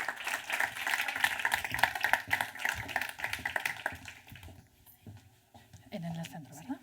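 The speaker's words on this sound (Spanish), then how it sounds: "Elena, si la recibimos con un aplauso" An audience gives a burst of clapping to welcome a speaker at a talk on work-life balance; the dense applause rattles for about four seconds, then thins and fades into a quieter room with a voice.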